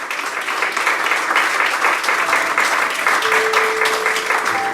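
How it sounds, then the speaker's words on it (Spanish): A church congregation applauds at a Sunday service, a steady, dense wash of many hands clapping throughout, fairly close and sustained without pause. "Denle un aplauso al Señor"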